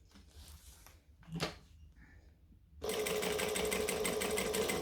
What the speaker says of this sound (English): I'm going to put my needle in, go back one, and then continue stitching around the edge.